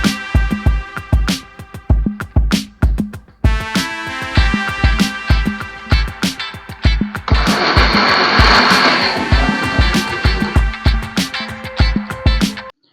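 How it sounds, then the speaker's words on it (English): A kitchen blender whirs through tomatoes and green chili, its motor cycling in loud rhythmic pulses with a steadier roaring stretch in the middle, close and alone. "So I will just go ahead to blend the tomatoes and the green chili all together in my blender."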